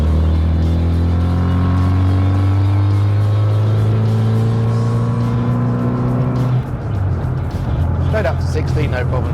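A 1998 Rover MPI Mini converted to Cooper S spec accelerates hard. The engine note is loud and rises steadily through the gear, then breaks off at a gearchange as another rise begins. The recording is close and continuous, with a voice faintly present.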